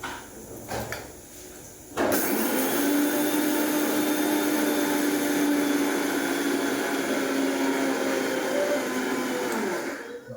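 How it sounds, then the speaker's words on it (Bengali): Poppy seeds whir in an electric grinder for Bengali posto: a few handling knocks, then a loud steady motor roar that runs for about eight seconds and cuts off. "এই যে পোস্তটা বাটবো, চলুন পোস্তটা আগে বেটে।"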